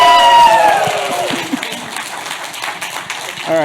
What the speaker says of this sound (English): Big round of applause, please. So you guys, clap.